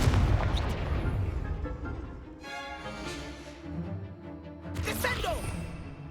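Incendio fire spell cast in the Hogwarts Legacy video game on PS5, a booming blast with a whooshing burst, repeated a few times over rumbling combat effects, with a voice speaking during the action.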